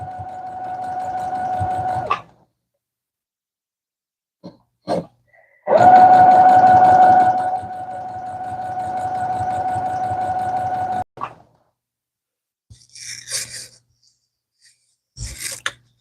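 A sewing machine runs in several bursts with a steady whirring hum and a rapid needle rattle: a couple of seconds, then a louder stretch of about five seconds, separated by silences and soft handling sounds.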